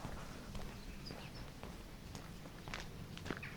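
Horses' hooves clip-clop at a slow walking pace in the Italian countryside, fairly faint and a little distant, over a steady outdoor background hum.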